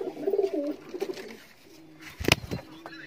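Golden and Sialkoti pigeons in a loft give soft low coos near at hand, with a short flutter or scuffle partway through and a voice faintly in the background.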